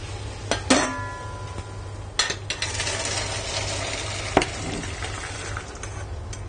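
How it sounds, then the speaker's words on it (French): Boiled peas and their cooking water tipped into a metal chinois sieve, giving a steady rushing pour of water with a few sharp metallic clanks at the start and a clink partway through. "maintenant je vais les passer au chinois, mais en faisant attention de bien garder l'eau de cuisson"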